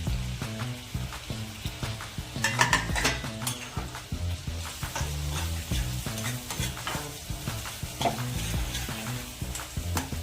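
Onions sizzle steadily in a hot pan while a utensil stirs and scrapes them in a regular rhythm, with metal clinks of pan and spoon recurring close by throughout; no one speaks.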